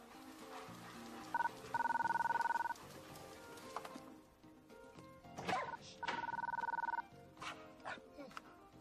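A telephone rings in two long trilling bursts separated by a pause, with a dog barking and someone calling out in between.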